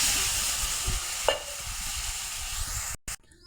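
Water added to an eggplant curry cooking in a hot pan gives a broad, steady hissing sizzle with a brief splashy burst, then the sound fades and cuts out near the end.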